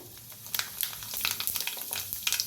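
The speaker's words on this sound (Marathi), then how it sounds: "तेल चांगलं गरम झालंय त्याच्यात टाकूया मोहरी अर्धा चमचा अर्धा चमचा जिरं" Mustard seeds and cumin sizzle and crackle in hot oil in a kadhai, with a steady frying hiss broken by repeated sharp pops and spits throughout, close and fairly loud with no talking.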